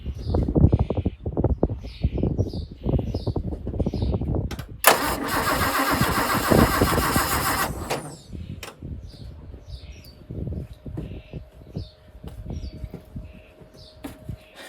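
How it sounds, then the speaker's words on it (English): A Land Rover Series 3 engine is cranked by its starter in a rhythmic, chugging whirr for several seconds without catching. A louder broadband rush follows, then quieter mechanical sounds outdoors. "I will give it a crank to see if we've got any."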